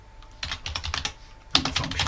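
Rapid keystrokes clatter on a computer keyboard in two quick bursts separated by a brief pause, close and crisp with no voice.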